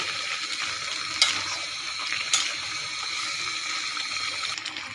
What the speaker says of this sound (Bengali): আমি দিয়ে দেবো মশলাটা ভালো করে কষে নেব